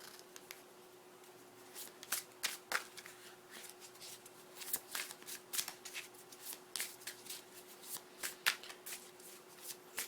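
Tarot cards are shuffled by hand in a quiet room, a run of soft, crisp riffling bursts and taps in an uneven rhythm, close but faint, with no talk.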